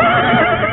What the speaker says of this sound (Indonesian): Panji Ketawang sudah duduk di atas kereta kuda, siap membawa Prabu Jayanegara kembali ke Istana Majapahit.